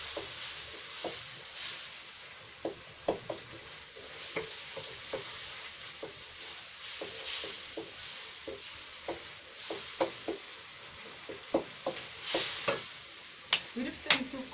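Cabbage with tomatoes and onions cooks in a pan in a Kenyan village kitchen, with a soft sizzle under repeated stirring scrapes and utensil taps, close and moderate in level.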